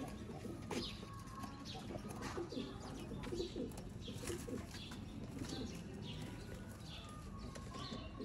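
Golden pigeons coo in a loft, with soft repeated calls and occasional wing flaps over a constant, busy background hum.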